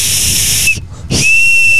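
A hot dog whistle, a design dating from 1952, blown at an outdoor spring car show: two loud, steady, airy whistle blasts with a brief gap between them, close and alone.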